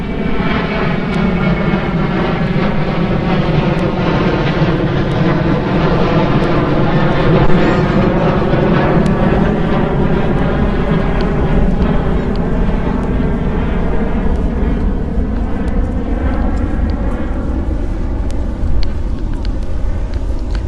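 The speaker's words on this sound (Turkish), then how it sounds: "Uçak sesinle karışıyor." A loud, sustained airplane engine roar fills the air, its droning pitch slowly shifting as the aircraft passes overhead.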